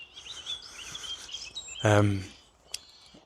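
Thin bird chirps and song drift through quiet woodland, interrupted by a short loud voice-like burst and a sharp click.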